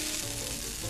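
Pancetta sizzles in a pan for spaghetti carbonara, a loud, dense, continuous crackle heard close up in one short unbroken burst, with no speech.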